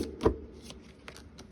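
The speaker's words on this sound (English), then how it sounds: "I'm going to live shuffle for where you'll be" Tarot cards are shuffled close up in a series of soft, quick riffling and sliding bursts, quiet and uneven, with no talk over them.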